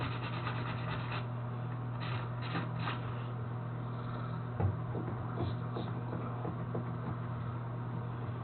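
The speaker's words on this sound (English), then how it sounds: "So you want to prep the surface. A little sandpaper." Sandpaper rubbing on a plastic bathtub surface, quiet scraping strokes in short bursts over a low steady background hum, with no talk.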